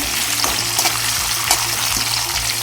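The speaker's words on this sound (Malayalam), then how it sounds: "ഇപ്പം നമ്മുടെ ബേ ലീഫൊക്കെ ഒന്ന് എണ്ണയിലേക്ക് ഒന്ന് ആവത്തക്ക വിധത്തിലൊന്ന് ഇളക്കി കൊടുക്കുന്നുണ്ട്" Bay leaves and whole spices crackle in hot oil for a pork curry, giving a loud, dense, continuous sizzle with brief stirring scrapes throughout.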